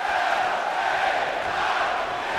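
An arena crowd in the WWE 2K24 wrestling game cheers and roars steadily, a broad sustained wash of many voices at a constant loud level.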